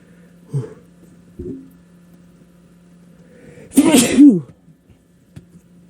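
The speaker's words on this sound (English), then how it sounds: "Alright, I gotta sneeze." A single loud sneeze bursts out after a couple of quiet breathy sounds, followed by faint rustling in an otherwise quiet room.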